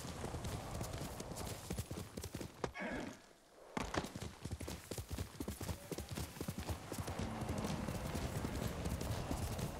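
A horse's hooves clip-clop at a brisk, steady gallop while riding across open ground in the video game Ghost of Tsushima, broken by a short pause before the rhythm resumes, with some breathing and movement noise mixed in.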